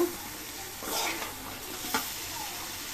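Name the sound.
fresh tengra fish being sautéed in a pan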